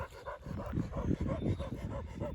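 A dog makes soft whimpering and panting sounds up close, with faint voices in the background.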